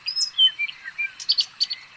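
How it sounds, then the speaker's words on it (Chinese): Several birds chirp and whistle in quick, bright phrases, clear and fairly close, with short pauses between calls and no other sounds. "鸟鸣声"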